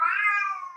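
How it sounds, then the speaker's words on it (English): A female cat in heat lets out a single long, loud, drawn-out meow close by, wavering slightly before tapering off, with no other sounds. "Sorry, my cat is in heat."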